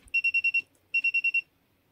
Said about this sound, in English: HIOKI designed the resistance measurement with the buzzer very busy making beeps while locking onto a reading